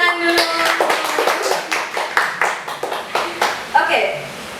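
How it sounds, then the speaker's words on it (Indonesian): A class claps hands in a classroom, a run of separate sharp claps at an irregular pace, moderately close, with a voice singing or talking over the start. "Tepuk tangan dulu."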